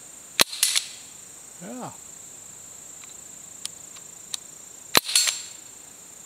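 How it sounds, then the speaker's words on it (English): A Crosman 1077 air rifle and a Ruger MK II pistol at an outdoor gun range fire offhand shots: two sharp loud cracks several seconds apart, each with a short echo, plus a brief voice. "I'm going to take a couple offhand shots here."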